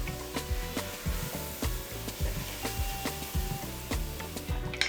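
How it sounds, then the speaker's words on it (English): Ginger and garlic hit hot oil in a pan for a vegan curry, sizzling steadily at close range while a utensil scrapes and stirs in repeated rhythmic strokes, with no talking. "now we're gonna add our ginger and our garlic and get that all stirred up"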